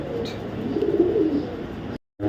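White racer pigeon, a female, cooing in a steady low murmur close by, with a brief cut to silence near the end.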